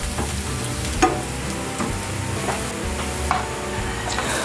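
Garlic and onion sauté in a pan with a steady, close sizzle that fills the whole stretch. A couple of light utensil taps break through, and no one speaks.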